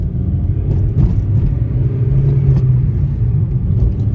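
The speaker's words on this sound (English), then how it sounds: "these Federals with 595, these things are loud as hell" Loud Federal 595 tires on a Honda Civic Si roll along while driving, a dense, steady road roar and rumble from inside the car, with no one talking over it.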